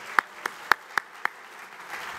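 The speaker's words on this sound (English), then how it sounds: "Just a round of applause for Tim." A few sharp, separate hand claps ring out at a Hall of Fame dinner, about five spaced beats in a reverberant room, fading rather than building into full applause.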